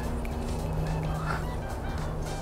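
Free-roaming chickens in a garden give brief fowl calls against a steady outdoor hum, with a low sustained drone running underneath.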